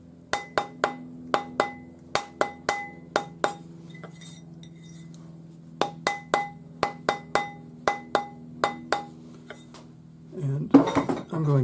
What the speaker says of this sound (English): we'll just round it up on the ring mandrel with the rawhide hammer